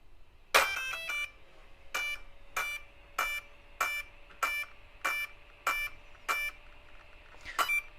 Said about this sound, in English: Sounded like 8 beeps to me